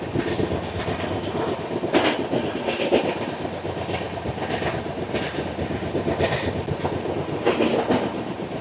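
Korba Express 18518 rolls through Marripalem station without stopping, its wheels clattering in a steady, continuous rhythm with a loud, close rumble throughout and a few brighter bursts of rail noise.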